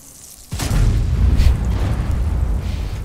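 A tank shell strikes an armored tank without penetrating in World of Tanks, opening with a sharp loud boom that gives way to a heavy, rumbling roar lasting several seconds.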